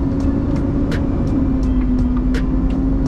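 A truck pulls away in Kuwait as the clutch is released, its diesel engine a loud, steady low rumble heard close from inside the cab. Faint clicks and rattles sound above the engine.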